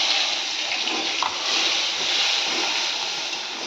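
Crushed garlic frying in hot oil in a pan with bay leaf, dried chilli and cumin, a steady broad hiss that holds level throughout with no break or voice.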